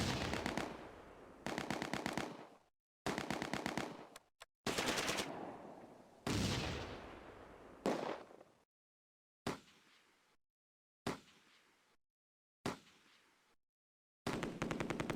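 Bren gun sections open fire in Close Combat A Bridge Too Far near Arnhem: sharp rattling bursts of automatic fire, several long and then shorter ones, separated by silent gaps, loud and with no talk.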